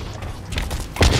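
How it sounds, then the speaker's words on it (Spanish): A grenade explodes in the shooter game Blacklight: Retribution: a short, loud, heavy blast near the end, after a stretch of low mechanical clatter and rumble. "Chaval, qué buena granada, chaval."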